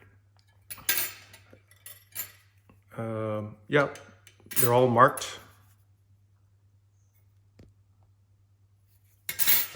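Sterling silver souvenir spoons clink and rattle in short bursts as they are handled, close and fairly quiet, with someone speaking briefly between the metallic jingles.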